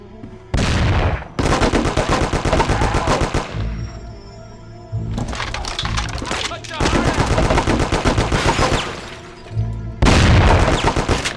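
Mafia video game gunfight with loud, close bursts of rapid automatic gunfire and heavy booming shots, arriving in several long volleys separated by short quiet gaps.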